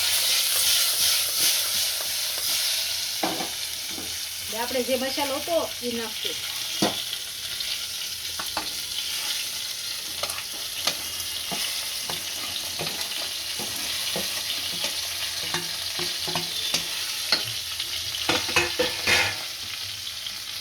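Stuffed brinjal and potato curry sizzles and fries in a pressure cooker, with a cumin and asafoetida tempering crackling in hot oil. A steady close hiss is broken by stirring clatter, and a voice speaks briefly.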